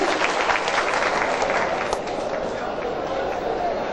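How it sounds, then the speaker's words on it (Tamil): An audience at a movie audio launch applauds loudly and continuously. The dense, close clapping of a large crowd runs for the whole clip. "அவருக்காக ஒரு பெரிய கரகோஷம் உங்ககிட்ட இருந்து."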